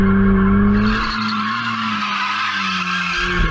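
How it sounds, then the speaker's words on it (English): A McLaren Artura spins in circles with its tyres skidding and squealing loudly, the engine droning steadily beneath the continuous screech, close and alone. "Look, I'm just spinning around in circles like a complete newbie."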